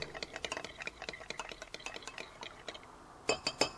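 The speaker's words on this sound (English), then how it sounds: "I'm going to use 2 heaping tablespoons of Hoisin sauce. We're going to stir that together." A spoon stirs hoisin sauce and toasted sesame chili oil together in a small bowl, making quick, soft rhythmic clinks and scrapes up close, finishing with a couple of sharper taps against the rim.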